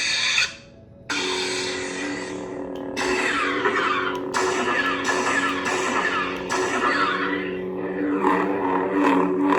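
A converted 2015 Force FX Darth Vader lightsaber fitted with a Gv3 Neopixel board and loud speaker, its buzzing hum cutting out briefly then surging back with a crackling ignition and sustaining a steady electric drone with swings and flickers.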